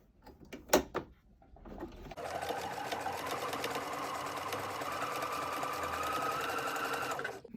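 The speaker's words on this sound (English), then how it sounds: "We want to end sewing this about here or here so that we can turn it" A sewing machine stitches a fabric face mask. A couple of sharp handling clicks come first, and then the motor hums close and steady for about five seconds without a break.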